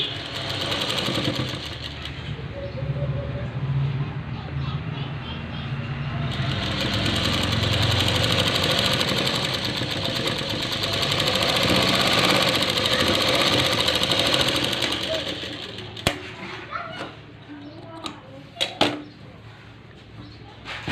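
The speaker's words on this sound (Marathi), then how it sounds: "ब्लाऊज उलटा करून पुन्हा एक शिलाई मारून घ्यायची" A sewing machine runs a steady, close, whirring cover stitch along a blouse for about fifteen seconds, then stops, leaving a few light clicks and handling knocks.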